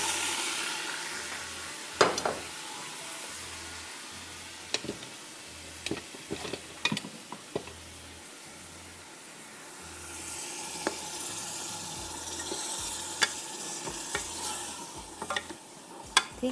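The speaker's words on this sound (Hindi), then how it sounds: "आधा कप प्याज डाल दीजिए, थोड़ा सा पानी डालिए ताकि प्याज मुझे बहुत ज़्यादा जलानी नहीं है।" Onions fry in a pot with a little added water, giving a steady soft sizzle punctuated by scattered scraping stirs and clicks of a spoon, with the hiss briefly swelling louder toward the end.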